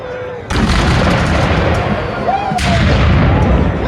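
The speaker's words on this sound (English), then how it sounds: "And the cannon joining in." Heavy booming cannon fire at a battle reenactment, loud and sustained, with a sharp new blast partway through and rumbling echoes between shots.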